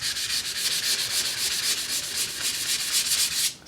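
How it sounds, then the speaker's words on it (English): Wet sanding of car primer built up over about four coats, a steady close rubbing scrape repeating in even rapid strokes, loud and continuous with no talking. "And then basically just start sanding."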